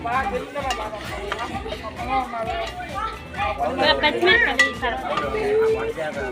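Cumin seeds frying in a pan for pulihora, a crackling sizzle with stirring clinks, heard under continuous talking.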